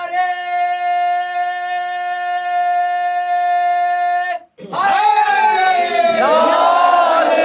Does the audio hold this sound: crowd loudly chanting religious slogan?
yes